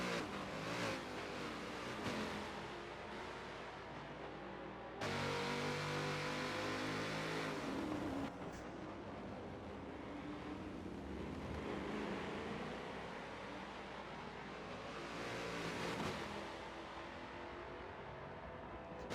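Race cars roar down the back straight at COTA in a multiclass race, DPi and P2 prototypes passing in sweeping waves of engine noise that swell, shift pitch and fade.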